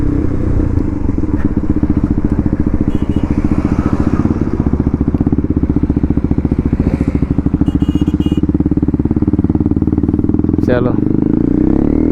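A motorcycle with a loud aftermarket-style exhaust rides along, its engine putting out a steady rapid throbbing close by the whole time, while someone talks over it.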